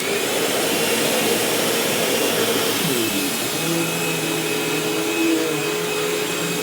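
A Eureka cordless vacuum cleaner runs steadily on its lowest setting during a deep-clean test, giving a continuous loud whirring motor hum with an airy rush that holds level throughout, with no voices.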